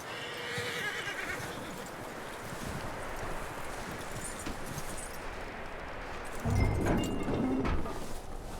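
Horse in Red Dead Redemption 2 whinnying and clip-clopping its hooves over a wind-swept outdoor ambience, with a louder burst of hooves and neighing near the end and no talk.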